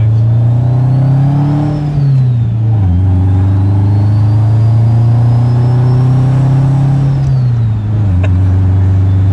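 A Subaru Forester engine revs loudly and close by at zero boost, a steady low drone that rises and dips twice in long sweeps, with a thin high mechanical whine from the cams riding above it; no one talks.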